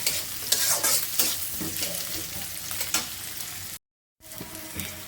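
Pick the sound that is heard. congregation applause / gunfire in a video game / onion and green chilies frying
onion and green chilies frying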